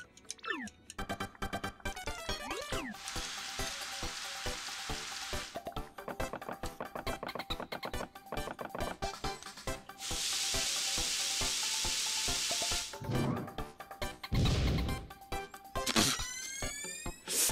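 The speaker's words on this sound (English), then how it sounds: "Now we're gonna mix up our shroom fry with our shooting star." Video game cooking of a shroom fry with a shooting star in Paper Mario: The Thousand-Year Door, with a steady sizzling fry noise over busy stirring ticks and chimes, in two long loud stretches and then a few shorter bursts.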